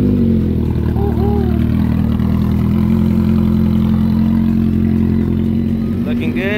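Motorcycles running together at a night group ride, a loud steady low engine rumble throughout with a brief rise in pitch near the end.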